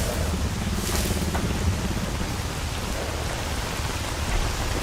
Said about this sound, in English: Now it's a bit rainy and stormy